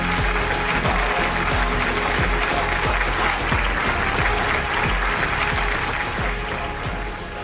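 Loud, dense applause from a large audience at a film celebration event welcoming actor Prasanna on stage, sustained and steady throughout, easing slightly at the end.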